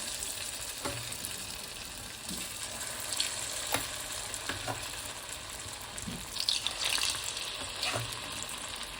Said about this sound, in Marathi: त्यानंतर आपण बोंड हे तळून घ्यायचे।